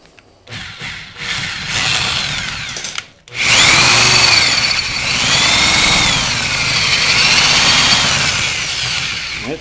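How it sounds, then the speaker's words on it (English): A power drill with a dull bit bores into an old boat transom, revving in short bursts before a long grinding run whose pitch wavers as the bit labours, close and loud with no talking. "And this will be the last drill bit."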